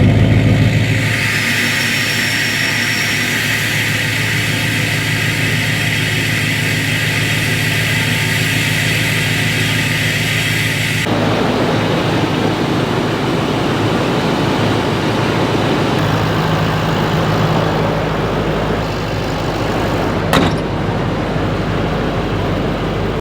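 A Duramax diesel pickup engine starts for the first time after a head gasket replacement, then settles into a loud, steady, close-up rumble that runs throughout. The tone shifts partway through.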